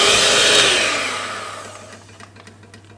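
Electric mixer beating carrot cupcake batter, a loud steady whir that winds down over a few seconds, ending with a sharp knock.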